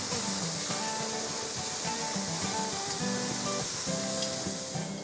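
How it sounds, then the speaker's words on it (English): Pork cheeks searing in a hot pan, a loud, steady broadband sizzle with faint crackles, close up and continuous with no talk. "Now when you put this in the pan, don't pile them on top of each other because that's just going to stew"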